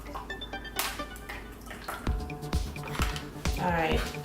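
Hot cocoa from an MRE pouch poured into a cup in a series of wet splashes and drips, close by, with a few bumps and rustles around the pour.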